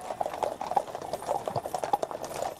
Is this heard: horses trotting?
yes